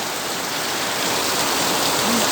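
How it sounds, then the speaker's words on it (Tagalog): Heavy rain pours in a loud, dense, unbroken hiss, drumming steadily on a surface close by with no voices. "Galit na galit ng ulan."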